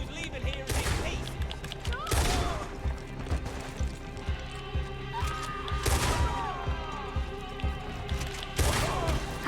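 Gunshots in Red Dead Redemption 2 crack out in scattered loud bursts, several sharp reports spaced a couple of seconds apart amid ricochets and background clatter, with voices speaking between them.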